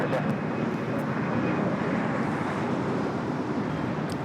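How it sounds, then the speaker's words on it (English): Citation 10 business jet taking off toward Oakland at LAX, a continuous even rushing jet roar at moderate distance with no breaks, a voice faintly present beneath the engine noise. "Citation 10 taking off to Oakland"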